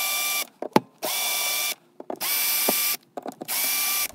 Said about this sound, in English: Now I'm going to loosen these screws on the light switch and the outlet.